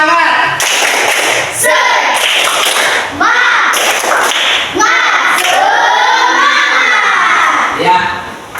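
A class of children doing a rhythmic spirit-clapping chant, shouting in unison between sharp patterned claps, loud and close, with voices dominating throughout.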